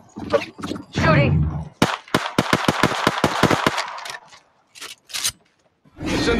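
Rapid bursts of automatic gunfire in the shooter game Apex Legends, a fast string of sharp close shots followed by scattered single shots, with voice lines before and after.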